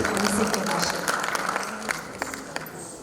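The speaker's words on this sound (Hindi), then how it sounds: "जोरदार तालियों के साथ स्वागत करेंगे मिस्टर अभिषेक जगासिया।" Audience applause welcoming a speaker at a Kartik Purnima gathering, steady clapping from a crowd that holds at a moderate level and then thins out, with some talking mixed in.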